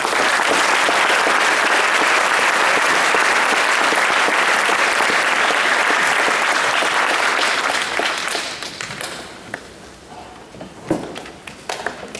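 Loud, sustained applause from an audience at a scholar club ceremony honoring juniors and their parents, many hands clapping evenly before thinning out into scattered claps and small knocks near the end.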